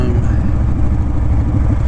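A Honda Fury motorcycle fitted with Cobra Speedster pipes rumbles loudly and steadily up close, a low throbbing exhaust without clear separate pops.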